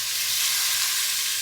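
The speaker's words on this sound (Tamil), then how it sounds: "நம்ம கட் பண்ணி வச்சுருக்க தக்காளியை போட போகிறோம்" Chopped tomatoes hitting a hot frying pan while cooking a vegetable kuzhambu, giving a steady, loud, close sizzling hiss that stays even throughout with no talk.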